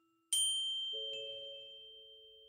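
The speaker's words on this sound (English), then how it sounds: "the sound we had heard was from a bell she was holding" A small hand bell rings out alone, a bright metallic strike followed by a second softer ding, its tones ringing on and slowly fading in an otherwise quiet space.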